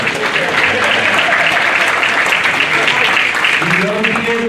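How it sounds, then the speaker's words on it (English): An audience at a junior livestock show claps loudly and steadily in a continuous burst, with a voice starting to speak under the applause near the end. "So let's give all these kids a round of applause."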